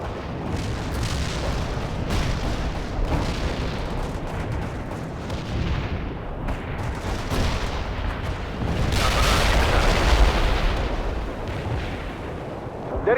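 A Soviet artillery barrage pounds away in the real-time strategy game World in Conflict, with heavy booms and overlapping blasts rumbling continuously and swelling louder toward the end.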